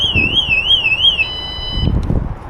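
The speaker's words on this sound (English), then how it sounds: "There goes my alarm. Somehow I hit it." A Cyrusher Kommoda e-bike's anti-theft alarm goes off, a loud warbling electronic tone that wavers up and down, then holds steady briefly before cutting out, over low outdoor rumble.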